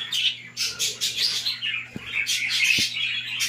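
Rainbow-mutation breeding birds in aviary nests holding eggs and young chicks chirp busily and continuously, with several overlapping high tweets close by over a steady low hum.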